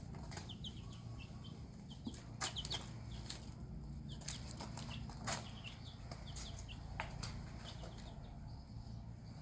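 Two-week-old baby chicks crowded in a cardboard box, giving steady high peeping and scattered sharp chirps, with occasional wing flutters and scratching close by, no talk.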